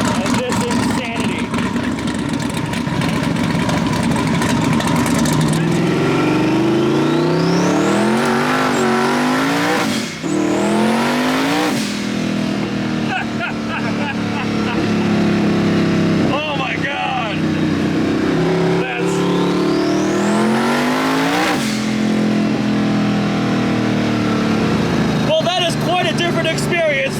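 A 1600 horsepower twin-turbo race car built from a C8 Corvette, heard from on board as the engine screams up through the revs in repeated rising pulls with gear changes, loud and close throughout, with people talking underneath.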